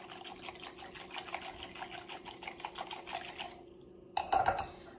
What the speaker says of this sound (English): We're just going to whisk it all together.